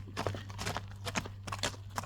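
Hooves of a fast bay horse trained for ulak (kok-boru) clip-clopping in an irregular walking rhythm, close and distinct against a low steady hum.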